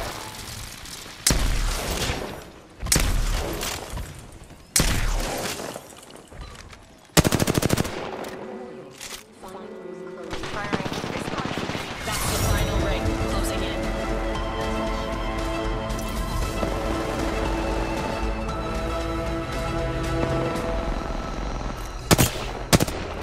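Apex Legends gunfire erupts in bursts of rapid automatic fire and single shots, loud and close, separated by brief lulls before a swelling musical sting takes over the later half.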